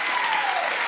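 Dense audience applause and cheering from a studio crowd, a steady continuous roar of many hands clapping at close range with no speech over it.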